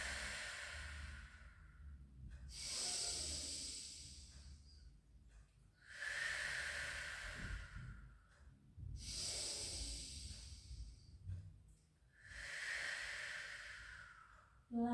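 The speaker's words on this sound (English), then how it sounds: "Take a beautiful breath in, let the belly rise. Out, breath release." Slow, deep breaths during a supine pilates exercise, four long airy exhales and inhales in a steady rhythm, close and soft with no talking.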